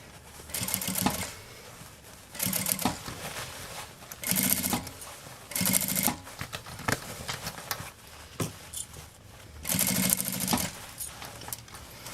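A sewing machine stitches a curved seam on a travel cosmetic bag, running in repeated loud bursts of rapid whirring separated by short pauses and small clicks of the fabric being adjusted, with no voices.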